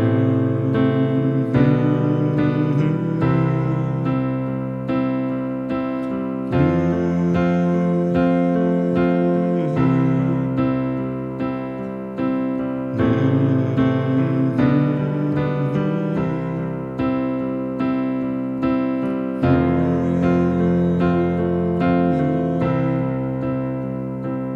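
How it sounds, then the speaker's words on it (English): Piano chords move through a simple progression, each block ringing and then giving way to the next, with about ten changes played alone at steady volume and no voices. "and the chord progression itself will sound like this."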